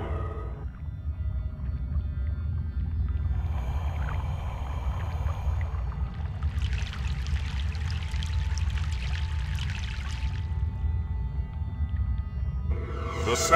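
Boat crossing a river in the Broken Sword 3: The Sleeping Dragon game: a continuous low rumble of flowing water with a pouring, rushing swell that rises midway and then fades, and a brief splash at the end.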